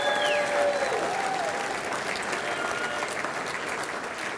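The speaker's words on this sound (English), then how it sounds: "let's give a round of applause to this guy." A crowd at a Moorhead hockey 50th anniversary celebration breaks into sustained applause with some cheering and whistles, a dense wash of clapping that holds steady throughout.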